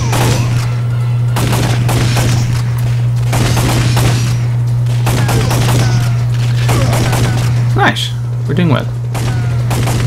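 Gunfire from the PS1 light-gun game Time Crisis, rapid repeated shots crackling over a steady low hum and game music, with a person talking over the action.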